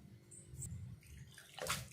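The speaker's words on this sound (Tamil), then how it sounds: "இப்போ தண்ணி கொஞ்சம் கொஞ்சமாக சேர்த்து பிசைஞ்சிக்கலாம்" Water is added a little at a time to a flour mixture for an instant breakfast dough, giving a soft splashing trickle that builds to a brighter pour near the end, with no talking.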